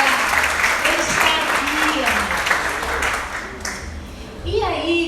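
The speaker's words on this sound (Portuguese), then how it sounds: "Aplauda bem forte, Senhor." A church congregation applauds strongly throughout a Portuguese-language worship service, with a dense, steady wash of clapping under a voice speaking over it.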